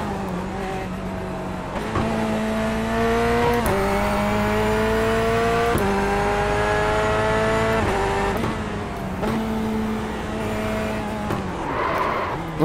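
GT3 race car in the iRacing or ACC sim racing game: a loud, close engine revs through repeated upshifts, each rising whine cut by a sharp gear change, with a tire squeal near the end.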